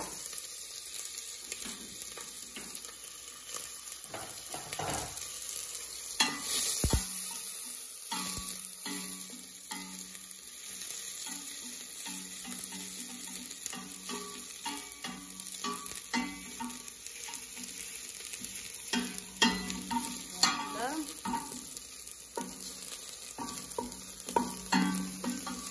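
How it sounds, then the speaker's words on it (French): Onions cooking in butter in a pot give a quiet, continuous sizzle, broken by occasional stirring clatter and scraping of a utensil against the pot, close and low in level. "Il y a un peu d'oignon, je vais le faire revenir avec un peu du beurre"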